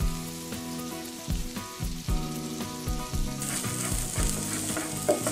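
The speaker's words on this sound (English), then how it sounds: "I heat up some oil over a medium flame, and the aromatics are ready to hit the pan" Aromatics including turmeric sizzle in hot oil in a pan over a medium flame, a loud, steady crackling fry broken by utensil clatter and stirring.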